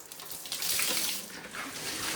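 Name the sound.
tray of overflow water tipped over onto the floor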